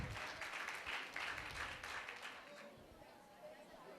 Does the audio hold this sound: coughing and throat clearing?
no